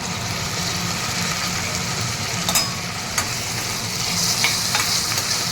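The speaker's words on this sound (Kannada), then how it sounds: "ಈರುಳ್ಳಿ ಸ್ವಲ್ಪ ಕಂದು ಬಣ್ಣ ಬಂದಮೇಲೆ ಇದನ್ನ ಈ ಟೊಮೊಟೊ ಹಾಕ್ತಾಯಿದ್ದೀನಿ" Tomato going into browned onions frying in a pan, a loud close continuous sizzle with a few sharp clicks of a utensil against the pan and a brief spatter near the end, no voices.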